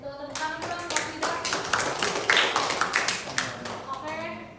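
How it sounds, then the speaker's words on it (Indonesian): A classroom group claps hands together in a short burst of scattered, uneven claps during an education exam quiz session, with a voice and chatter mixed in among the hand slaps. "tepuk tangan dong buat kita"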